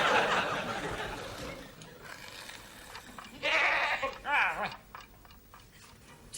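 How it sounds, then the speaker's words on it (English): A goat bleats twice in quick, wavering cries, close and fairly loud against a muffled indoor background. "are you quite sure you heard a goat?"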